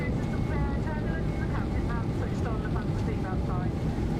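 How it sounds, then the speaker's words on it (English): A passenger airplane in flight fills the cabin with a loud, steady, broadband hum and vibration, a constant low roar throughout, with a voice talking over it. "The plane's vibration and now hum brings me back to the Hong Kong protests of 2019."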